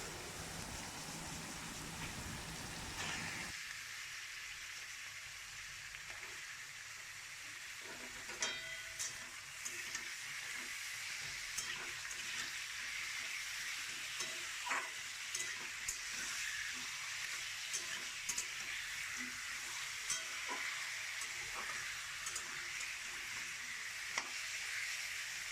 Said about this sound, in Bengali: চিকেনটা ভাজা হোক